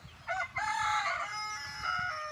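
A Rhode Island Red chicken clucks and then gives a drawn-out crow, close and clear over a quiet background.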